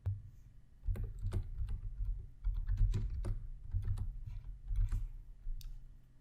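Close-up typing on a computer keyboard, a quick irregular run of soft key clicks and taps with short pauses, alone and fairly quiet.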